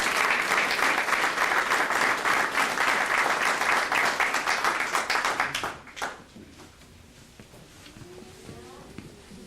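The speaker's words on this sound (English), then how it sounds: "So give them all a round of applause." An audience at an awards ceremony claps and cheers in a dense burst of applause that fades out after several seconds, leaving quiet room sound and faint movement.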